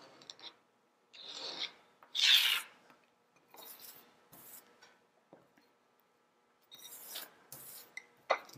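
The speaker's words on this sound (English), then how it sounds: "I'm just going to cut it out with my X-Acto knife." An X-Acto knife cuts out an image along a walnut straight edge, giving soft, intermittent scraping strokes separated by quiet pauses, faint and close.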